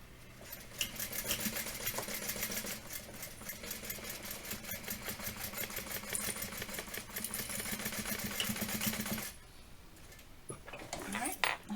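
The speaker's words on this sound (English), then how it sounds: "Alright, now we're going to stitch" Sewing machine running steadily and close, stitching a half-inch seam on an Emily Tote bag, a dense rapid mechanical clatter lasting about nine seconds before stopping, followed by brief handling noises.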